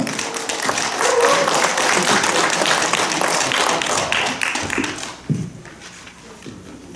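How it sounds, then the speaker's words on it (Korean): A lecture audience claps to welcome the speaker at a local history talk, a burst of close hand clapping that fades out over several seconds, with a brief voice in the background. "제1 강연을 맡으신 권순호 원장님을 큰 박수로 다시 한번 모셔보도록 하겠습니다"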